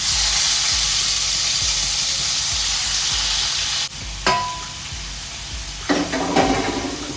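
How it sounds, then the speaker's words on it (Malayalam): Brinjal pieces fry in hot oil in a kitchen pan, giving a loud, steady sizzle up close, followed by a few clinks and stirring scrapes near the end, with no talking. "വഴുതനങ്ങ, അതിനകത്തോട്ട് ഇട്ട് കൊടുക്കാം."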